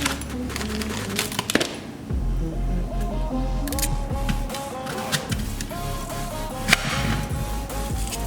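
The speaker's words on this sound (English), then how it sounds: "I'm gonna cut up some apples." Apples being cut up on a board at home, a run of close knife chops and clacks mixed with kitchen clatter, fairly loud and irregular.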